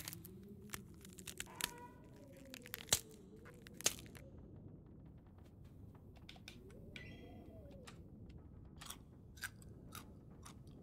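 Food is eaten in the survival video game The Long Dark, giving soft, scattered crunching bites over faint ambient wind and bird-like coos, quiet and close.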